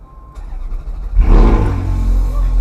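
A Ferrari F430 fires up after a quiet moment, its engine catching with a sudden loud burst and then revving and rumbling strongly up close for the rest of the moment.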